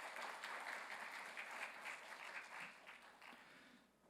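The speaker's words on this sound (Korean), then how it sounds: "두 분께 여러분 큰 감사의 박수를 한 번 더 부탁을 드리겠습니다" At the 2022 Jeju Forum, an audience applauds a sand artist and a composer with a full, even wave of clapping, fairly soft and distant, that holds steady and then fades out at the end.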